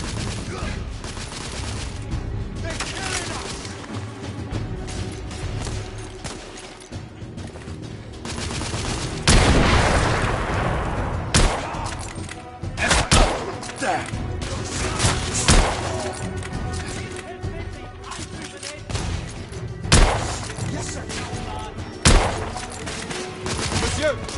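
Shotgun blasts and other gunfire in The Order: 1886, sharp repeated booms and bursts scattered through a chaotic firefight, loud and close, with voices calling out between shots.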